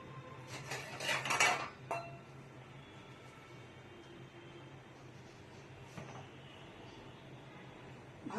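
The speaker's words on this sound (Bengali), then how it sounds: "ভাজা চুনাটাকে উঠিয়ে দিয়ে এরকম ভাবে ঘাটবো।" Jaggery syrup is stirred with roasted chuna in a pot, giving a brief burst of metallic scraping and clinking near the start. A quiet, faint background follows, with one more soft clink later.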